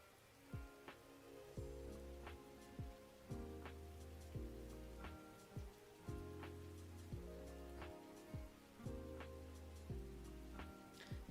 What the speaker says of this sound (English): We got the rain.